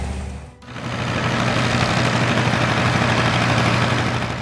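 A John Deere 4020 farm tractor's 404 cubic inch, 6.6-liter six-cylinder naturally aspirated diesel idles steadily and close by, a loud, even low rumble that starts after a brief quiet moment and holds for several seconds.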